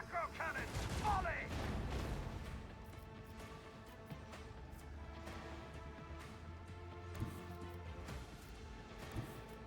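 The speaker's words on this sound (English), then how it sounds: "Macro cannon, volley!" A macro cannon volley from a space warship in a Warhammer-style strategy game, a heavy rumbling salvo of booms and crashes that swells early and then trails into a lingering low roar with scattered impacts, and a voice speaks over it.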